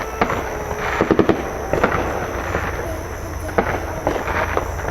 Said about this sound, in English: Get a panoramic shot of all the freaking fireworks going on at once.